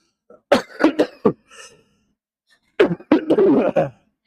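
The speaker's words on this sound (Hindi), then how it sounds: "खांसी हो रही है बहुत ज्यादा" A man coughs in a quiet room: a quick burst of three or four harsh, close coughs, a short pause, then another rough cluster of coughs with throat clearing.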